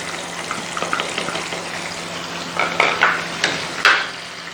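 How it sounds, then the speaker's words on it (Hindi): Gram flour roasting in desi ghee in a pan, with a soft steady sizzle under intermittent scraping stirs of a spoon, close and moderately quiet. "बेसन को थोड़ा भूनते हैं।"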